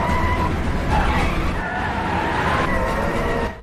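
Cars screech and skid in a frantic taxi chase from the Korean zombie horror film The Cursed: Dead Man's Prey, loud and continuous with engine roar and tire noise throughout.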